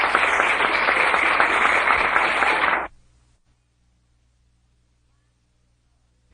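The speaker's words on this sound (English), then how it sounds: "Thank you very kindly for your heartwarming applause." Loud audience applause after a speech by Martin Luther King Jr. to men and women in the arts, a dense sustained roar of clapping that cuts off abruptly after about three seconds into near silence.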